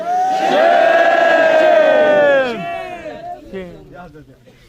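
A crowd of voices shouts a "shame" chant together, loud and sustained at first, then breaking off and trailing into scattered calls.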